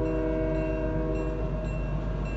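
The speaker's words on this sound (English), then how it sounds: "Okay, so the train's coming by, so there's a good chance that team's gonna want to hop the train." A train rolls past in the Fortnite video game, a loud sustained horn blaring over a steady rumble of rail noise throughout, with no talking.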